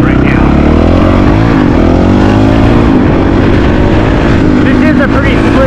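Honda CRF450RL dual-sport motorcycle on a dirt ride near the Mexico border fence, its engine droning loud and close with throttle changes, wind buffeting and a voice talking over it.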